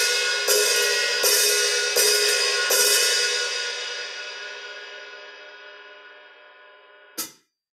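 An open hi-hat cymbal on a drum kit struck four times at a steady pace, its bright, sizzling wash ringing on and slowly fading before a final short, choked hit.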